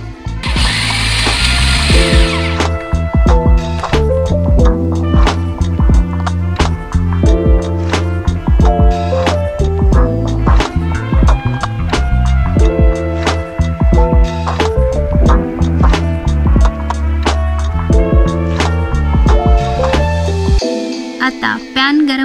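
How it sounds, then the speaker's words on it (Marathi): A kitchen mixer grinder runs continuously, loud and near, as it grinds cardamom and sugar together. Its steady whirring drone rises and falls in pitch and ends abruptly when the motor cuts off. "त्यात थोडीशी इलायची आणि साखर टाकून स्मूथ ग्राइंड करून घ्यावे।"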